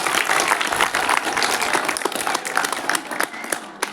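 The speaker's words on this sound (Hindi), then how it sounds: "पूजा के लिए एक बार जोरदार तालियां हो जाए।" Loud applause from a crowd of students at a school discussion program in a hall, dense rapid clapping filling the space and slowly thinning toward the end.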